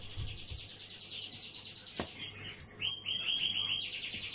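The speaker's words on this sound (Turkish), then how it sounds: "Bizim kuşlar da sağ olsun bana eşlik ediyorlar. Ha, böyle ötüyorlar." Small birds chirp and tweet continuously nearby in a home kitchen, with high, rapid repeated calls overlapping one another against a quiet background.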